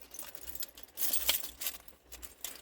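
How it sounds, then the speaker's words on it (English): A bunch of keys jangles close up as it is handled in a car, light metallic clinks and rattles in irregular bursts, fairly quiet. "I'll need to get my keys or something over to try and saw this open."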